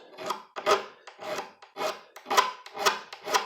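A small file rasps across a hardened steel knife in seven steady back-and-forth strokes, each a gritty scraping burst with short pauses between, close and moderately loud.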